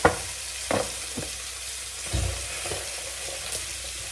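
Mustard seeds sizzle and crackle in hot oil in a pan beside frying fish, a soft continuous frying hiss broken by a few sharp pops and stirring clunks, with no talk.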